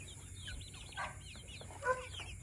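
Rhode Island Red chickens cluck softly in short bursts over a low, steady background hum, with one brief louder call near the end.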